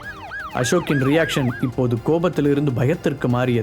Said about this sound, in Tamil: வெளியில் பலமான சைரன் சத்தம் கேட்க ஆரம்பித்தது